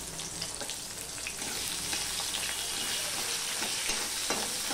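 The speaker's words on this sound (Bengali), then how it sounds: "কালো জিরেটা ফোড়ন হয়ে গেলে দিয়ে দিলাম এই ছোট্ট একটা পেঁয়াজ কেটে রেখেছি, সেটা দিয়ে দিলাম।" Chopped onion and green chillies frying in hot oil with black cumin seeds for an ilish fish curry with gathi kochu: a steady, close hiss of sizzling with light stirring crackles, no talking.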